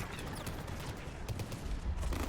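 Rapid gunfire bursts in Mass Effect 3 combat, a dense fusillade of shots lasting a couple of seconds, loud and close.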